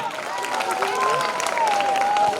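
A school audience at a children's play about Savitribai Phule breaks into continuous dense clapping, a loud, even wash of applause with a faint whistling tone running through it.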